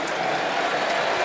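Football stadium crowd of 45,000 at a 1993 Eagles at Colts game, applause rising as a broad, steady roar of distant clapping and murmur.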